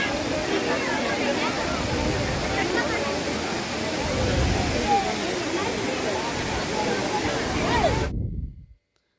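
Silver Cascade Falls in Kodaikanal roars as a steady, loud wash of falling water, continuous and close, with faint voices mixed into the spray before it cuts off near the end.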